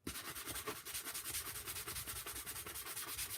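Constant close, gritty sanding scratches smooth the edges of a carved pumpkin cutout, a dense rasping rub in quick short strokes with no talking.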